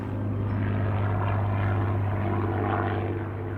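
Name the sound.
Spitfire aircraft flying, propeller engine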